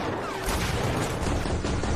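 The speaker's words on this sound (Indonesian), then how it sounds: "menyambutnya dengan tembakan dari senapan mesin" Machine gun fire in an action film as a bald villain greets intruders at a house, a dense, continuous roar of rapid shots with crashing impacts, loud and unbroken.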